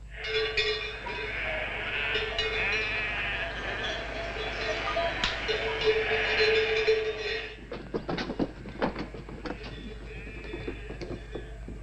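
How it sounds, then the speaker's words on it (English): A flock of sheep bleats in a dense, overlapping chorus as they come in for milking, loud and continuous for several seconds, then fading into scattered clatter and noise. "The sheep are still coming in for milking."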